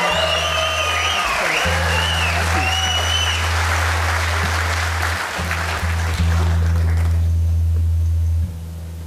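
Applause from a live concert audience at a theater, sustained clapping under a held low instrumental drone and some ringing tones, continuing steadily for several seconds before tapering off at the end.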